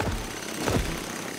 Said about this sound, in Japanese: 早くあのドリルを止めなくちゃ。